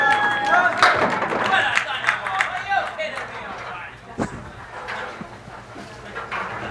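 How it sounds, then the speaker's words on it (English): Spectators cheer at a televised candlepin bowling match after a double strike, a steady crowd roar under a commentator's talking, fading somewhat toward the end. "Crowd loves it here."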